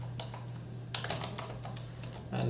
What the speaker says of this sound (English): I know my keyboard is too loud